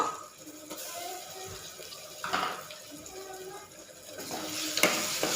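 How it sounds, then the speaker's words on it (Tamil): Tomatoes and garlic paste being sautéed in a pan, with a soft, continuous sizzle under occasional scraping stirs and a sharper clink near the end. "நல்லா வதக்கிடுவோம் பச்சை வாங்கின போகிற வரைக்கும் நல்லா வதக்கிக்கிடுவோம்"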